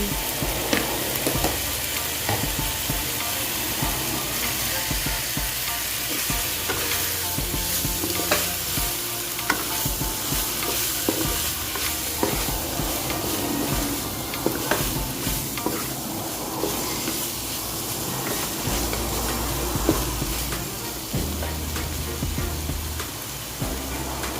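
Chicken stir-frying in a hot pan for Filipino pancit sotanghon, a loud steady sizzle with frequent scraping and stirring clatter throughout, close up and without talk.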